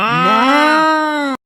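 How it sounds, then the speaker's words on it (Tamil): A single cow lets out one long, loud, close moo that holds steady for over a second before cutting off abruptly, heard alone without other sounds. "இந்த மாடு சத்தத்துல ஒண்ணும் கேட்காது போல இருக்கு"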